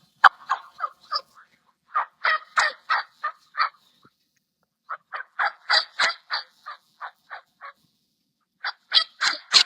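Wild turkey yelps come in short rhythmic runs of sharp, clear notes, three bursts separated by silent pauses, close and distinct with no talking.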